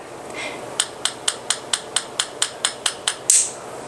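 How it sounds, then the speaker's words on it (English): About a dozen light, evenly spaced taps on a boiled egg's shell, close and crisp, ending with a slightly louder crack. "So we're gonna just tap it like that."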